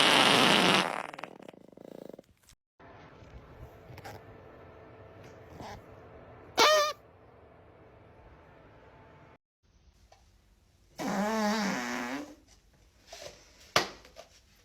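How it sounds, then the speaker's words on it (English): A woman breaks wind in several short, loud bursts, some of them sputtering. Quiet pauses separate the bursts, with faint background noise in between. "This one is a Bisto flavoured fart"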